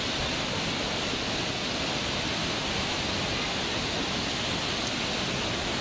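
Water from landslides pours across the wrecked BP Highway in Nepal, a steady, loud broadband rush with no break or voices.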